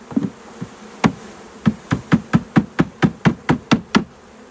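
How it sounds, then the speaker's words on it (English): A package of honey bees is shaken and dumped into a hive, giving a rapid run of sharp, evenly spaced thumps over a steady insect buzz, close and fairly loud. "Dump it out, all the bees are out."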